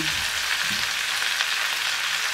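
Broccoli stems and large leafy spring onions sizzle in a hot pan, a steady close crackle of frying with faint stirring scrapes near the start.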